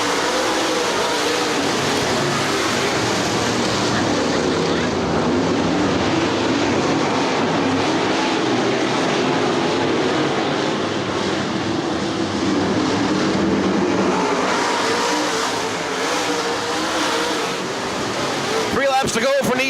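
A field of race cars circles a track under green flag racing, making a dense, continuous engine roar that swells and fades slightly as cars pass. A commentator talks over the noise.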